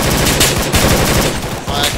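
Loud, rapid automatic gunfire in the military shooter Arma 3 during a fire-and-movement training exercise, a dense continuous burst of rattling shots with faint radio-style voices beneath.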